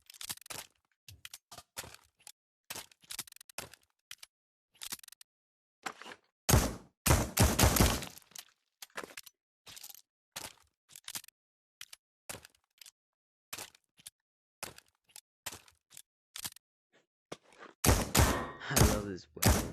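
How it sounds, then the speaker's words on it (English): Sharp single shots and short bursts from a tactical SMG in Pavlov VR at a gun range, dry cracks spaced irregularly with near silence between, and two louder clustered bursts. "I love this weapon so much. Tactical SMG."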